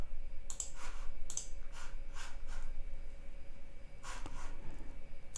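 A handful of crisp computer mouse clicks, spaced irregularly and heard close up over a steady background hum while working in the Unity editor; no one speaks.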